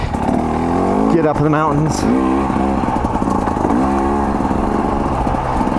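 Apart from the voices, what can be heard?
KTM 300 XC W dirt bike engine revving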